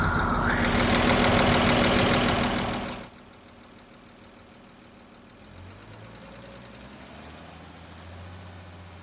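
A cold Chevy 216 inline-six engine runs at about 2,000 RPM, a loud steady buzzing roar that cuts off abruptly after three seconds, leaving a quieter low rumble that continues at a lower pitch.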